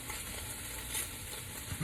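A seasoned pot roast sears in a hot pan with a steady, even sizzle and hiss, close but fairly quiet, with a slight crackle near the end and no talking.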